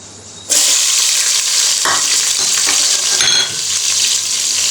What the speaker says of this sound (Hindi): तो इसी ऑयल में हम प्याज डाल देंगे